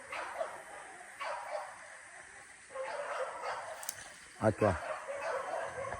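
Out on a hunting trip by a river, a dog gives a few short, distant barks and yips under ongoing talk, with one sharper bark standing out near the end.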